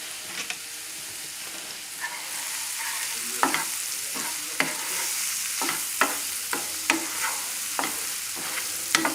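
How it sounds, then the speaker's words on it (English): Escargot snails cooking with mushrooms and shallots in a pan give off a steady close sizzle, with sharp stirring clinks and scrapes repeating every second or so. "And these escargot, the snails, don't mind cooking in there."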